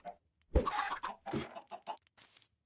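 A Minecraft chicken gives a few short, clipped clucks in quick succession, close and clear against a quiet game background.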